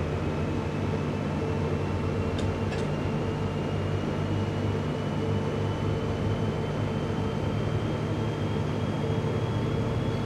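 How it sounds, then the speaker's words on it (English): A DB BR155 electric locomotive hauls a freight train in Train Simulator on the Koblenz–Trier route, a steady loud rumble and drone with a faint high whine, plus two brief clicks, with no talking. "Yep, this is a freight train."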